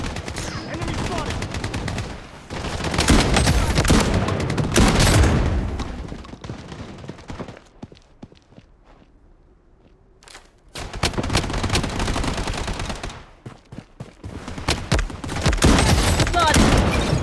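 Rapid bursts of gunfire in the shooter game Bloodstrike, Hotzone mode with a shotgun, loud and dense in clusters with a quieter lull in the middle before the shooting resumes.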